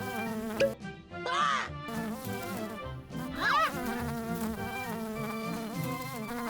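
A cartoon bee buzzes steadily over bright children's music, a wavering insect drone that swells twice in short sweeps, with no talking.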